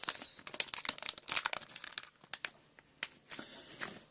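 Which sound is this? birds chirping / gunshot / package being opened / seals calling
package being opened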